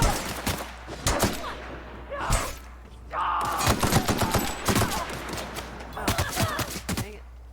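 Gunfire in The Outer Worlds video game, a string of sharp shots in bursts and singles with a brief lull midway, mixed with game effects throughout.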